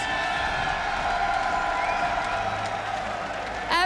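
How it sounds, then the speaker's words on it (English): A crowd at a StarCraft II esports tournament, WCS Montreal 2018, cheers and applauds steadily, a dense sustained wash of clapping and shouts that swells briefly at the end. "Give him a cheer, guys"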